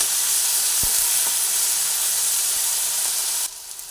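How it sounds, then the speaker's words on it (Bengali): Onions hit hot oil in a kadai for a teasel gourd curry and sizzle loudly and steadily with a broad hiss. A couple of spoon knocks land near the start, and the hiss drops off abruptly toward the end. There is no talk. "কড়াইয়ের তেলটা গরম হয়ে গেছে, পেঁয়াজ দিয়ে দিচ্ছি।"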